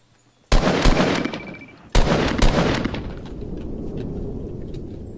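Gunfire in Fortnite aimed at bushes: two loud bursts of rapid shots a second or so apart, each followed by ringing echoes that fade into a lingering rumble.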